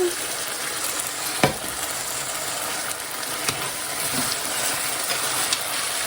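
Teriyaki chicken and vegetables in sauce fry over medium heat with a steady close sizzle, broken by a few sharp scraping stirs of a utensil against the pan.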